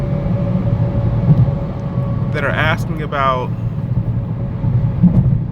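Cabin of a BMW F30 sedan with a muffler delete, driving in eco mode, a steady low engine and road drone filling the interior while someone talks briefly over it.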